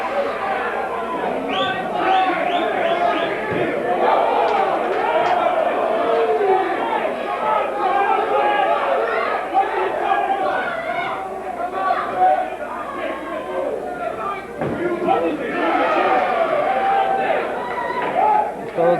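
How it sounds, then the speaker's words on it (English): A crowd at a boxing event at the Rainbow cheers in at least two languages, a dense, steady roar of voices and shouts that rises and falls without a break. "You hear cheering in at least two languages"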